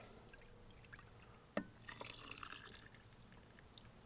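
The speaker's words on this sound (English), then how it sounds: "then we're gonna pour a brine over it" Brine poured over avocado with cilantro and garlic in a jar, a faint splash and trickle of liquid, quiet and brief, with a sharp knock near the start.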